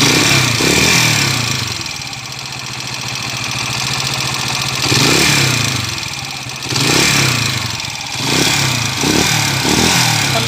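Honda TMX125 Alpha motorcycle engine converted to 175cc, running with a misfire: an uneven idle that rises into repeated revving bursts, loud and close, with no talk.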